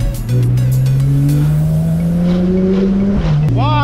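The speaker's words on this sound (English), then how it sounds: "that exhaust sounds" A Porsche 911 convertible, top down on winding roads, sends out a loud, close exhaust note that climbs steadily in pitch under acceleration, dips briefly at a shift, then revs up again.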